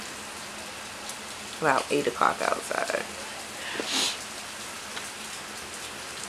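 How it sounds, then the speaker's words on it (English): Steady rain falls outside on a hot summer day in Georgia, a soft continuous hiss under a nearby voice that talks briefly partway through. "I mean, I love the rain, especially when it's hot"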